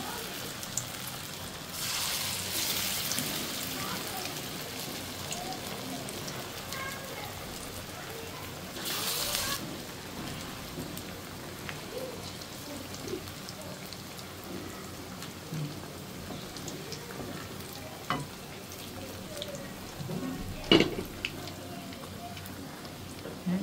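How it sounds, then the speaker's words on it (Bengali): Ash gourd leaf fritters fry slowly in oil over low heat, giving a soft, even, rain-like crackle that stays faint and continuous, with occasional clicks and some talk over it. "এটা একবারে কম আঁচে আস্তে আস্তে করে সুন্দর করে ভেজে নিতে হবে"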